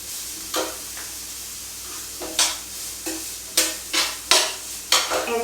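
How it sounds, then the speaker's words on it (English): Onion being sautéed in oil for a green coconut chickpea curry: a low steady sizzle in the pan broken by several sharp stirring scrapes of a spatula, clustered toward the end, close and alone without talk. "First I will saute the onion."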